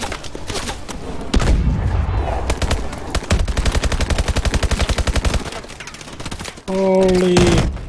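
Gunfire in the Call of Duty Advanced Warfare level Utopia rattles in loud rapid bursts, with a long sustained automatic stretch, heavier booms at the start and a rising electronic tone near the end, while a player talks now and then.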